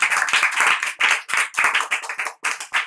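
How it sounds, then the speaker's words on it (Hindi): A group claps in irregular, fast bursts to welcome a guest at a staged village political event in a Chhattisgarhi comedy skit, with several brief pauses between rounds and no talking. "तालियों से स्वागत"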